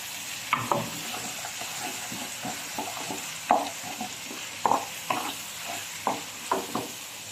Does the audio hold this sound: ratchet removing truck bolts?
no